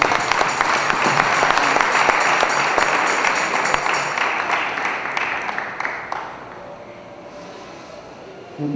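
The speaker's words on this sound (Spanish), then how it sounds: "Un voto de aplausos, por favor." An audience at a fraternity gathering of Junín community members in Lima applauds an award presentation with steady, full-room clapping for about six seconds before it thins out and fades.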